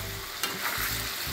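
Mutton fry with garam masala sizzling in a pan, a dense, steady close-up hiss with a brief scrape of stirring partway through, no voices.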